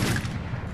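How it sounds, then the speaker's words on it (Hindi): Gunfire in the Free Fire mobile game: a brief, dense burst of rapid shots, fairly loud and close, lasting under a second. "देखो मैं फायरिंग कर रहा हूँ एक बार"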